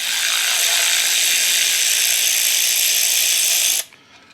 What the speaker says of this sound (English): Now that my bolts are raised up, they're off tension, I can go ahead and run them out.